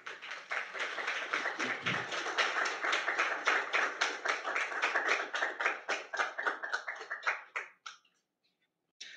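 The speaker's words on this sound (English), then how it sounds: "Please give our recipients a round of applause." Audience applause for award recipients at a leadership society ceremony, a steady patter of many hands clapping that holds for several seconds, then thins to a few scattered claps before stopping.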